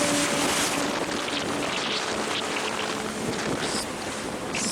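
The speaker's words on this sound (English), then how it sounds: "I can sail towards the wind for free, using the wind as the fuel for my engine." A sailboat beats upwind at sea, with steady roaring wind and rushing, splashing waves against the hull, heavy wind noise buffeting the microphone throughout and no talking.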